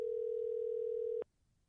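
A telephone dial tone sounds as the line is picked up to call someone back, a steady, clear single-pitch hum that holds for just over a second and then cuts off abruptly into near silence.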